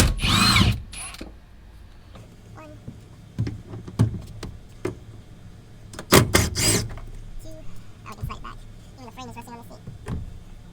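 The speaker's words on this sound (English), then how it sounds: "now we're gonna start unbolting the seat" Intermittent ratcheting and metallic clicks come from loosening 14 mm bolts on a seat inside a first-generation Toyota Celica, arriving in short bursts close by while someone talks between them.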